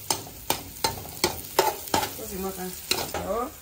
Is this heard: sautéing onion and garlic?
yes